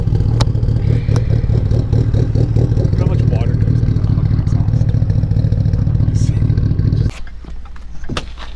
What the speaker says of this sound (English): E85 powered Evo warming up so that we can actually get it on the trailer without stalling it out